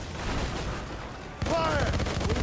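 Naval cannon fire from a sailing warship in Assassin's Creed Rogue: a sudden loud blast at about the midpoint rolls into a sustained rumble, with shouted voices over the battle din.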